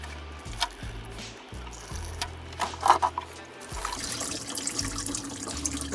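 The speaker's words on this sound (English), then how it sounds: "pull your lower radiator hose. Yep, have a catch bucket." Coolant drains from a pulled lower radiator hose into a catch bucket during a GMC 350 engine teardown, a steady liquid pour and trickle with a few splashy spurts, close and moderately loud.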